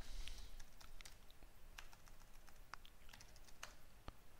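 A password is typed on a computer keyboard as a sparse run of soft, close keystroke clicks at an uneven pace over a faint steady hiss, with no talking.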